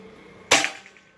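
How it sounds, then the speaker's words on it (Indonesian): A single sharp crack from a PCP air rifle firing a VS Dome pellet, close and loud against a quiet background, with a quick fading ring after it. "Tembakan terakhir pakai VS Dome."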